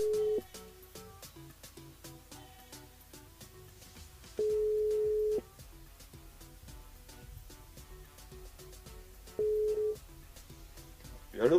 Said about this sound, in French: On rappelle Davy, Davy, par ici, c'est ok pour toi